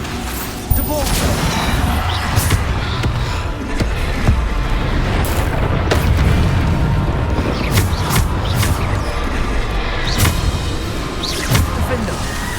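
Bombarda spell explosions erupt during Hogwarts Legacy combat, a busy stretch of loud booms, bursts and crackling impacts layered over constant battle noise, with sharp hits recurring throughout.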